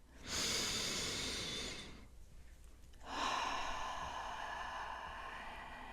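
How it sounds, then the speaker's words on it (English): A single full, slow breath: a long audible inhale followed after a short pause by a long exhale, close and clear with no talking. "Step 1, take a nice full breath."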